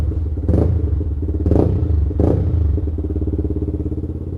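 A Yamaha R15 motorcycle idles loudly up close while its exhaust gives three sharp firecracker-like pops, spaced about a second apart, over the steady engine rumble.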